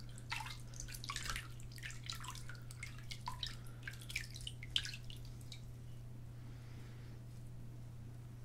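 Faint, irregular water drips and small splashes during a shave, a close, quiet pattern of scattered droplets over a steady low hum, fading out toward the end.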